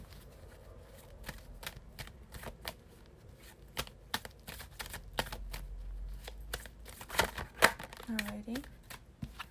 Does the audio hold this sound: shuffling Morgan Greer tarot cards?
yes